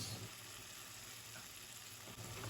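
Minced meat sizzles in a pan with small shallots, a faint, steady frying hiss with soft scraping and stirring throughout.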